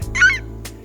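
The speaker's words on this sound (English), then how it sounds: "There's the rooster. Did you hear the rooster, Obi?" A rooster crows once, a short, bright call rising out of a quiet backyard scene, close and fairly loud, with a soft low hum underneath.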